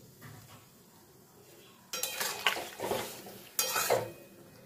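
Vegetables with added water are stirred in a pot for a Bengali chapor ghonto: a quiet start, then two bursts of scraping and clattering spoon-on-pot sounds nearby, with no speech.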